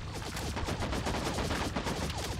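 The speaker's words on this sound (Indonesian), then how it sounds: "Terus sebelah kiri ada yang nembak, cok." Continuous rapid gunfire rattles through a Sausage Man firefight, dense overlapping shots with no pause.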